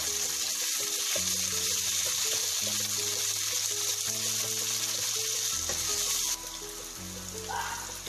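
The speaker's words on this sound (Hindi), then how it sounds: "अब हम टमाटरों को सौते होने तक इसको करेंगे कुक।" Tomatoes and green chilli sautéing in a pan for masala okra, a steady, continuous sizzle and frying hiss at close range with no talking, easing slightly toward the end.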